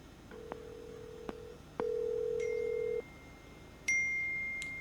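In GTA 5, a phone calls the medics: two short dial beeps, a long steady tone, then higher electronic chimes and a fading ring, all clean and close with no talking.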